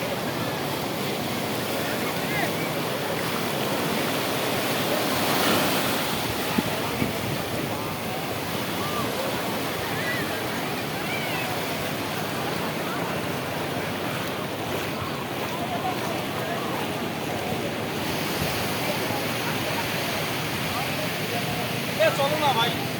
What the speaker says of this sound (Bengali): ঢেউ দেখেন, ঢেউয়ের পরিস্থিতি